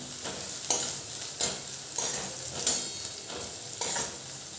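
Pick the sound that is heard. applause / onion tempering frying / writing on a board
onion tempering frying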